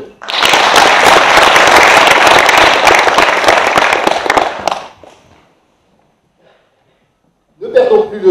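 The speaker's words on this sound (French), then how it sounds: "On peut l'applaudir" A dense, loud burst of audience applause fills a hall at a local event in Calonne-Ricouart, lasting about five seconds before dying away into silence, and then a voice begins to speak.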